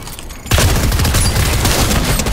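Dense, loud gunfire from a shooter video game starts abruptly and continues as a rapid fusillade of blasts and booms, close and unbroken, with no speech.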